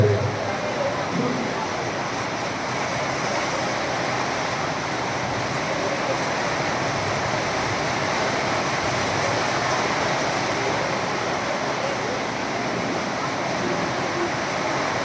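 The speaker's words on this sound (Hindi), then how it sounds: "ऊपर से जल की बरसात हो रही है" Steady rain falls from above at an outdoor gathering, a continuous even hiss of water that stays constant throughout at moderate level.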